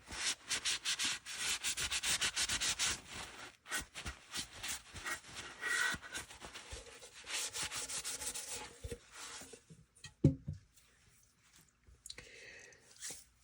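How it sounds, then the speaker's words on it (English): A cloth wipes excess wax off painted furniture, giving a steady, close rubbing and scrubbing sound in repeated strokes that slows and grows quieter toward the end, with a brief knock near the finish. "wipe off the excess wax."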